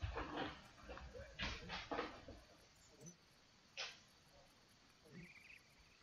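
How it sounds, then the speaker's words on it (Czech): Faint background noises from a pet dog chewing, tearing at something and scratching itself indoors, with a few soft whimpers and rustles against quiet room noise and faint insect-like hiss. "můj pes tady dělá bordel. Takže možná uslyšíte nějaký šumy z pozadí, který něco kouše, trhá a drbe se."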